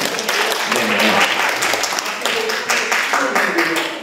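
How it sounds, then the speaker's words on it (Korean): An audience breaks into applause in a hall, a dense wash of clapping that holds steady for a few seconds and fades slightly at the end, with a voice over it. "박수 한번 부탁드리겠습니다"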